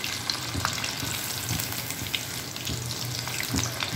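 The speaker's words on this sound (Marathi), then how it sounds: "आता हे जे आपण ब्रेड क्रम्स लावलेलं जे चिकन आहे ते मी याच्यात तळून घेत आहे." Breadcrumb-coated chicken fries in hot oil in a wok over medium heat, with a steady, dense sizzle and faint crackles and pops throughout.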